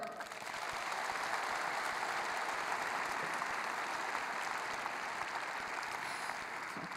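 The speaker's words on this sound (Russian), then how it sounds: "И наши спонсоры и партнеры заслуживают аплодисментов." Audience applause at the opening ceremony of the FIDE Candidates 2020 chess tournament, a steady, dense clapping from a large crowd that runs unbroken and fairly loud for the full seven seconds.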